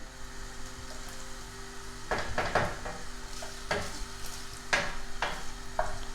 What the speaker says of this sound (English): So as you can see guys, the pork belly, we are frying it.